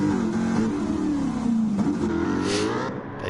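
A car fitted with a swapped Voodoo engine revs in a racing video game, a loud close engine note rising and falling in pitch over a few seconds.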